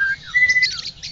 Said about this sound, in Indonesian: Ini namanya murai batu.